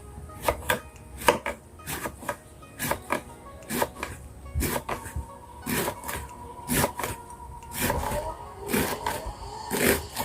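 Crisp knife chops through banana blossom strike a cutting board in a quick, irregular rhythm, close up, with faint scraping between strokes.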